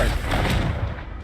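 A Confringo spell blast fired in the video game Hogwarts Legacy: a short, loud, booming burst like a gunshot or explosion that fades quickly.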